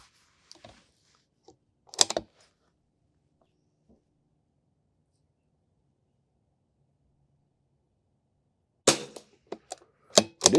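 Rifle shots from a DI Precision Vudoo 360 at an outdoor range crack out as sharp, isolated reports, one early and then a few more close together near the end, with near silence between.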